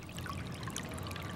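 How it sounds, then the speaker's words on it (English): Gurgling creek water in the Tujunga Wash, a continuous close bubbling and trickling flow at steady volume. "There's something comforting about the sound of a gurgling stream."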